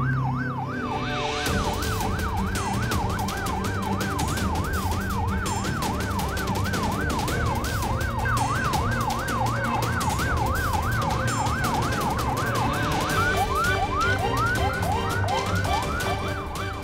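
An ambulance siren wails steadily in a rising and falling cycle over traffic noise, then switches to a faster yelping pattern near the end.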